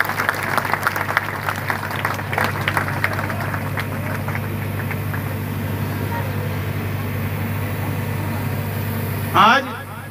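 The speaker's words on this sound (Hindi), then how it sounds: "अरे तालियां बजा दो" A crowd claps at an outdoor public gathering in a village on the Sirsa–Dabwali road, steady broad applause over a low constant hum, with a brief bump of noise near the end.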